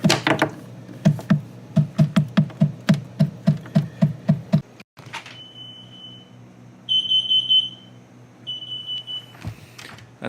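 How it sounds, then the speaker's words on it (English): A carbon monoxide alarm in a house sounds a rapid series of loud, regular beeps, then a pause and a thump. A higher, thinner alarm tone follows in broken, intermittent bursts. "That's the carbon monoxide alarm in the house."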